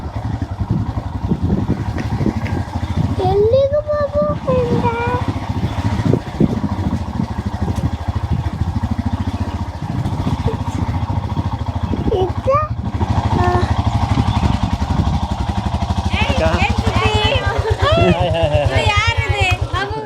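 A motorcycle rides along a forest road in the Western Ghats, its engine droning steadily and close for the whole stretch while people talk over it.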